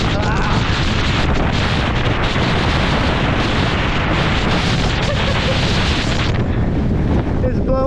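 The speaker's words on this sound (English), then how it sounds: "in 50-mile-an-hour winds." Gusts of around 50 mph roar and buffet the microphone nonstop during a mountain-bike Super D race, a loud broadband rush that masks everything else.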